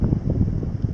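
Wind blows across the open ground at Blue Mounds State Park, Minnesota, a short, steady low rumble of gusts buffeting the microphone, with no voices.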